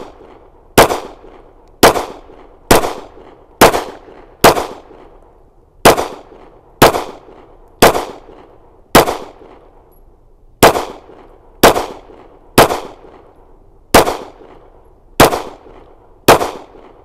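A Smith & Wesson M&P 2.0 9mm pistol fires about fourteen sharp, loud shots at a range, in quick pairs and singles spaced roughly a second apart, each crack followed by a short fading echo.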